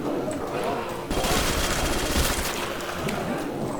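Sustained machine gun fire in Call of Duty's Nacht Der Untoten zombies map, a dense rattling burst that swells in the middle and carries on almost without pause, close and loud over game noise.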